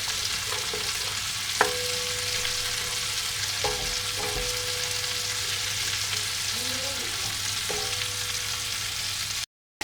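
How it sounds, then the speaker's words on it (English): Ginger garlic paste is stirred into melted butter and spices in a pan, giving a steady, close sizzle with a few sharp spoon scrapes and clicks against the pan. No one speaks. "I'm also going to add the ginger and garlic paste to it. And I'm going to give that a good mix"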